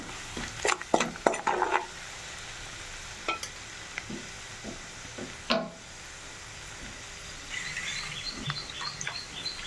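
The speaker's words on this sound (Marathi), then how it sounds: "तिखट मीठ फ्राय करून घ्यायचं" Metal utensil scrapes and clinks against a pan over a low, steady sizzle of chili powder, salt and turmeric frying, with a few sharp stirring knocks early on.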